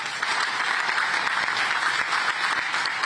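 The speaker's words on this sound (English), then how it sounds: "Let's give them a little hand." Audience applause for faculty and staff at a West Point ceremony: a steady, even patter of clapping from a large crowd, moderately loud, with no voices over it.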